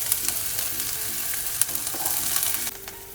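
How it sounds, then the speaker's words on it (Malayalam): Mustard seeds and tempering spices fry in hot oil in a pan, a loud dense sizzle with scattered sharp pops and crackles, heard alone and close. "താളിക്കാനായിട്ട് ആദ്യം പാൻ ചൂടായി കഴിയുമ്പോൾ എണ്ണ ഒഴിക്കുക, കടുക് പൊട്ടിക്കുക."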